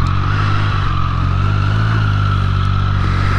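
A 2024 Triumph Street Triple R three-cylinder motorcycle engine revs loudly and close, a throaty continuous roar with a low rumbling drone throughout.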